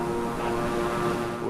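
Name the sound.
Beechcraft propeller aircraft in Microsoft Flight Simulator video game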